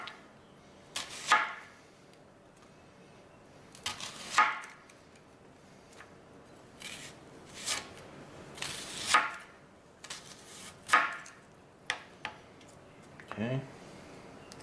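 Knife chopping vegetables for a slow-cooker chicken tortilla soup, with a handful of separate sharp chops spaced unevenly across the stretch, each a crisp board knock, close and moderately loud over a quiet background.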